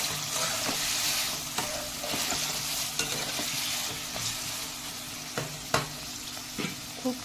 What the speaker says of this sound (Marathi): हिरवी मिरची घालायची आधी तेलामध्ये आणि मग शिजवून घेतलेला बटाटा घालायचा